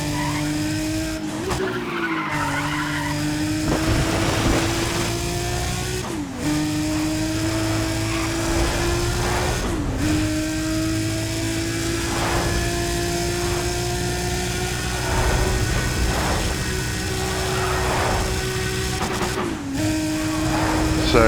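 Modded car engine from Need for Speed ProStreet, a buzzy, droning tone with trombone-like and insect-swarm character, holding steady with brief dips and shifts every few seconds, loud and continuous with no talking.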